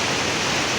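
Rushing water pours steadily off a road near a large bridge in a hilly area, a continuous broadband roar with no pauses, close and fairly loud, with no voices.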